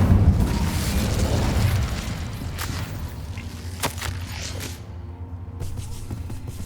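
An Incendio fire spell erupts in Hogwarts Legacy, opening with a loud rumbling whoosh of flame that swells for about two seconds and then dies down into lighter crackles and faint impacts.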